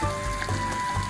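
A pot of water with tomato, garlic and onion bubbles at a steady boil for sinigang pork soup, a close continuous hiss and gurgle with a faint hum beneath it.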